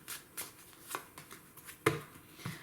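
Tarot cards being shuffled from a deck, irregular soft riffles and slaps close by, with a few sharper card snaps and a louder flick near the end, no talking.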